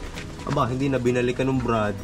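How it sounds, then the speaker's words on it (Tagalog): A pigeon coos in low, repeated rolling phrases nearby while someone talks over it. "kukunin mo ba itong kalapati na to?"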